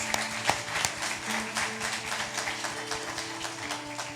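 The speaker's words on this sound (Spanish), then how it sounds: "Un aplauso, hermanos." A church congregation applauds during a baptism certificate ceremony, scattered hand claps and taps mixed with a low murmur of the crowd, moderately faint and steady throughout.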